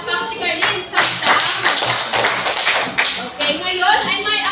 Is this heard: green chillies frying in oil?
no